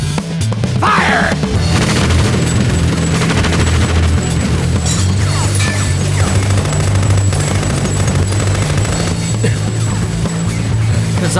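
Gunfire in a Tekken 4 video game cutscene: loud, dense bursts of rapid automatic fire with crashes and booms, layered over a dramatic score that continues without pause.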